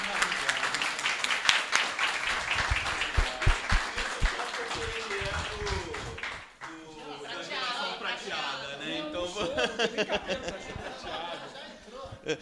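Audience at an AI-in-health talk at Web Summit Rio 2025 breaks into strong, brisk clapping for about six seconds, which then fades as someone talks and a few people chuckle.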